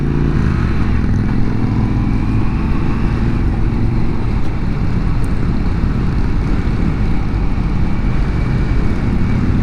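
An FTR1200 motorcycle ridden at night produces a constant, loud, low rumble mixed with wind noise. It stays even throughout, with no speech.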